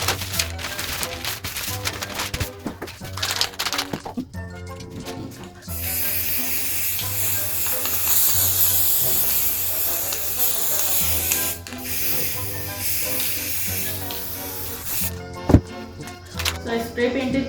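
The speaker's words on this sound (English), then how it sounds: "I'm going to paint this with a golden spray" Gold spray paint is applied to a craft snake candle holder in several hissing bursts of varying length, with pauses and handling noises in between.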